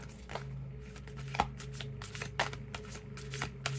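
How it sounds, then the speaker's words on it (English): Sticky tarot cards being shuffled by hand during a card reading: a run of soft, quick riffling flicks and taps, close and quiet, with no talking. "These cards are sticky. They don't like to be shuffled."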